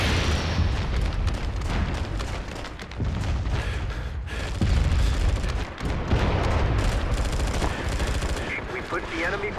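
Mortar shelling in the online military shooter MAG, heavy booms and dense gunfire rolling continuously through a loud battlefield din, with voices talking over it.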